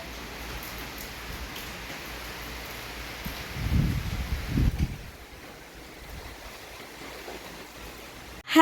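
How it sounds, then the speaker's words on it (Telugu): Strong wind and rain outdoors make a continuous hissing roar, with a heavier low gust swelling in the middle before easing back to a steady wash. "ఫుల్ గాలి, వర్షం ఫుల్ చూడండి."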